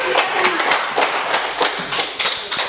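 Children in a classroom clap their hands in a quick, rhythmic run of sharp claps, close and fairly loud, with voices mixed in.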